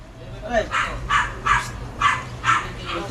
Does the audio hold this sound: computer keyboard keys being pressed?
no